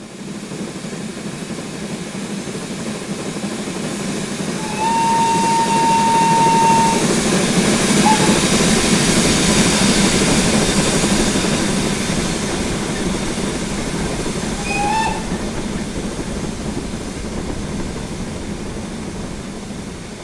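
An LBSCR E2 steam tank locomotive in Train Simulator gives a short steady whistle over a constant rumbling engine hiss, which swells louder and then eases, with a brief second whistle toup later.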